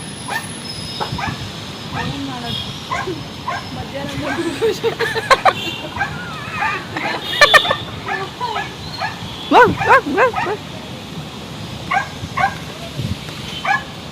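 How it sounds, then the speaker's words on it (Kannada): A puppy gives a series of short, high yips, barks and whimpers close by, in irregular bursts, while a person speaks quietly now and then. "ಅದೇ ನಾಯಿ ಮರಿದೆ"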